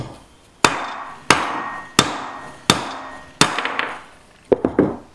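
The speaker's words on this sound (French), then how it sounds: "Et vous tapez dessus, ce qui extrait donc le roulement." A hammer strikes a socket to drive a needle bearing out of a 50cc motorcycle gearbox casing: five loud, evenly spaced metallic blows, then a quicker cluster of lighter taps at the end, with no talk.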